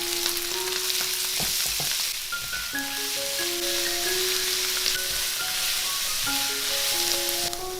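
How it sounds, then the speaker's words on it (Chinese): Blanched spring greens stir-fried in lard with ginger and chili in a wok, producing a steady hiss of frying and a few tossing clatters under light background music. "再加入烫菜翻炒"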